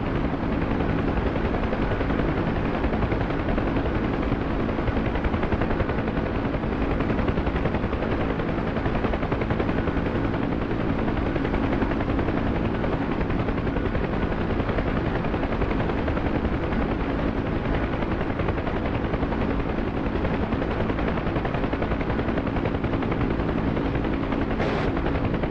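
A Huey helicopter in the DCS flight simulator flies with a steady, loud rotor and turbine drone that holds without a break, with one brief sharp burst near the end.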